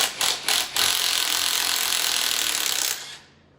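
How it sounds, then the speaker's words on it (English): A puller works a press-fit cam sprocket off a 5.9 Magnum engine, with three quick mechanical bursts followed by a loud, sustained grinding whir that cuts off abruptly near the end. "we're gonna use a puller quick here to get it off"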